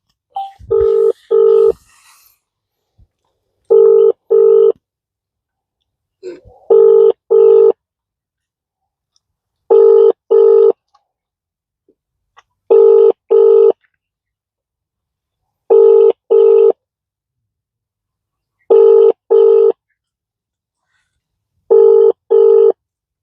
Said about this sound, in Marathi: फोन लावतो मी उचलतात का नाही ते तुम्ही बघा